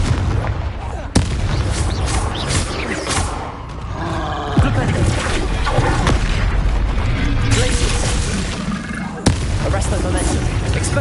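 Confringo spell blasts in Hogwarts Legacy go off as sharp explosive cracks and booms amid a busy combat mix of other spell impacts and rumbling, several distinct bursts across the stretch.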